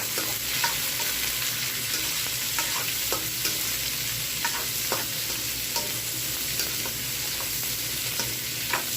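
Tomatoes go into pakbet vegetables frying in a pan, giving a continuous loud sizzle with regular scraping stirs and light clatters throughout.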